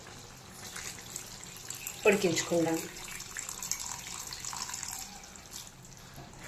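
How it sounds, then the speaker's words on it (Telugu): About half a glass of water poured into a pan of spicy gongura (sorrel leaf) chicken curry gives a brief close splash and gurgle, then fades to a low liquid hiss while a voice speaks briefly. "ఒక ½ గ్లాస్ అలా వాటర్ పోసుకోండి,"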